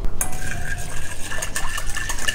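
Warm water poured into a bowl for yeast dough with sugar, a close, trickling splash with light clinks of kitchenware, no talk.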